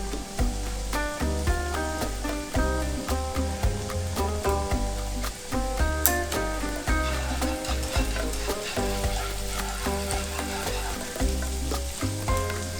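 Red peppers sizzle and crackle in a hot pan with tofu and spring onion oil, a steady frying hiss with stirring scrapes running alongside background music.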